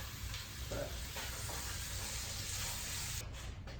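Beef fries in a pan with a constant loud sizzle, while scraping and stirring sounds come through close up.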